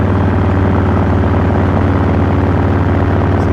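A Stage 1 tuned motorcycle engine runs steadily up close on a night ride, a deep, continuous low throb with a strong harmonic drone and little variation.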